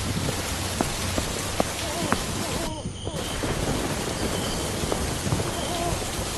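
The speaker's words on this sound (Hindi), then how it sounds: "कुछ समय बाद बारिश बहुत तेज हो गई। आसमान में जोर जोर से बिजली कड़कने लगी।" Heavy rain pours steadily with a dense hiss, while low thunder rumbles beneath it and occasional louder drops tap nearby.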